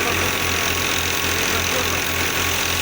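A tractor engine idles steadily and close by, with a low, even rumble and a faint repeating knock running through it.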